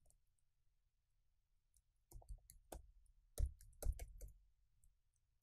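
A key passphrase is typed on a computer keyboard: a short burst of quiet, close key clicks in an uneven rhythm after a silent pause, with no talking.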